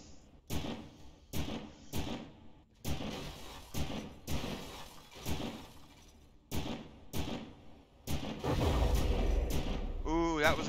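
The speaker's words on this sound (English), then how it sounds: "that was an explosion" Explosion in the From The Depths tank battle game: a series of sharp booming impacts recurring every second or so, then a sustained louder rumble near the end, with a voice speaking over parts of it.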